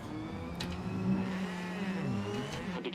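Rally car engine in a WRC video game, a steady droning hum with rising and falling revs at moderate distance, faint and continuous with no talk over it.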